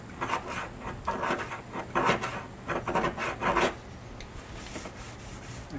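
A nylon chisel scrapes vinyl striping tape off a car's painted body, giving a run of close, raspy scraping strokes in quick bursts that stop partway through, leaving quiet afterward.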